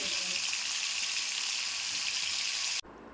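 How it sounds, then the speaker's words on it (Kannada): Prawns frying in a hot pan give a loud, steady hiss and sizzle for nearly three seconds, then the noise cuts off abruptly to near quiet. "ಒಂದು ಸೈಡ್ ಫ್ರೈ ಆಗಿ ಮತ್ತೊಂದು ಸೈಡ್ ಫ್ರೈ ಆದರೆ ಆಯಿತು"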